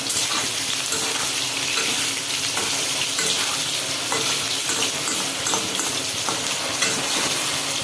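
Squeezed soya chunks fry in hot oil with a loud, continuous crackling sizzle, close up and steady, broken by occasional stirring scrapes.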